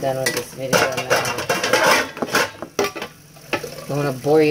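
Dishes being washed by hand, with cutlery, plates and pots clinking and clattering close by, mixed with running water and scraping and a person speaking over the washing.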